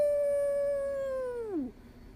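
A human voice imitates a wolf howl: one long, steady, close tone that holds and then slides down and fades at the end.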